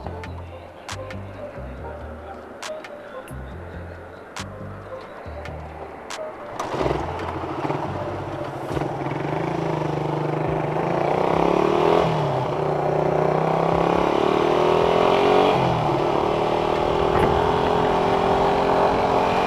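A Suzuki Satria FU motorcycle, a Thai-built standard model, pulls away and accelerates, its engine note rising and holding loud and steady close by, with a voice faintly in the background at the start.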